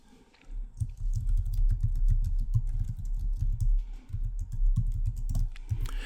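Keys on a computer keyboard clatter in a quick, uneven run as a short sentence is typed, close and fairly loud with brief pauses between bursts.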